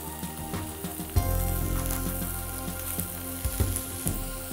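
Morel mushrooms cooking gently in a pan, with a close, continuous fine sizzle and scattered crackles and pops over a low steady hum, no voices.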